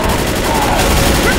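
Dense, continuous automatic gunfire from Left 4 Dead on an expert campaign, loud and sustained with no pause, blended with game noise and players talking.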